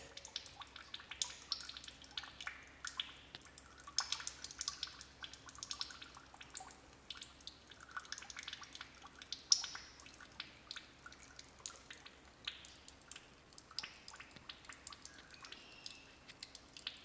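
Fluid steadily dripping and draining out of a broken-down Coyote engine, a faint continuous patter of small irregular drips, close and alone with no talk.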